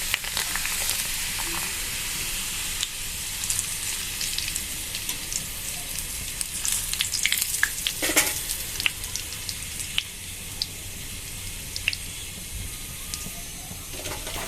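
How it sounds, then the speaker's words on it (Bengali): Shop-bought colored potato chips deep-frying in hot oil, a steady bubbling hiss with crackles throughout, close and moderately loud, with no talk. "তেল গরম করে কিছু ভাজা দোকানের চিপস ভাজলাম।"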